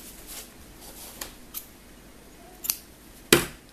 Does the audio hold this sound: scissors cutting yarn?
yes